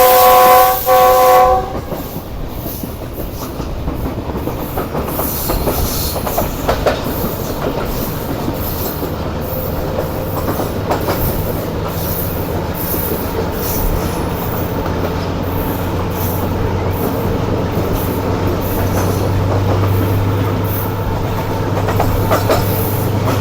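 Subak Raftar railcar rolling through a station without stopping: a steady loud rumble and rhythmic clatter of wheels on track throughout, with a brief horn blast at the start and rising wheel noise toward the end.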